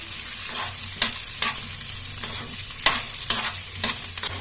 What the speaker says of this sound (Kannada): ಈಗ ಹೆಚ್ಚಿಟ್ಟಂತಹ ಈರುಳ್ಳಿ ಸೇರಿಸ್ತಾ ಇದ್ದೇನೆ